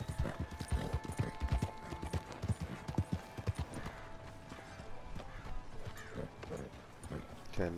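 Horse hooves clip-clopping in Red Dead Redemption 2, a quick, uneven rhythm, close and fairly loud, over a faint tonal background with some softer rattling.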